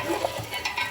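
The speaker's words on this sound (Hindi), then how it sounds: "तड़का लग रहा है। तड़का लगा" Chopped onions frying in a cooking pot for a tadka, with a steady close sizzle and stirring scrapes running throughout.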